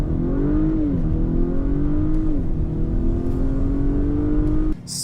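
A front-wheel-drive Lincoln Corsair launches hard in a drag race, its engine revving loudly and steadily with pitch climbing and shifting under wheelspin, ending abruptly near the close.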